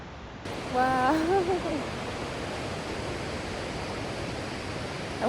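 River water flowing intensely at a Northern California camping spot, a loud, broad, steady rush that fills the whole clip, with a brief voice-like tone early on over the constant roar.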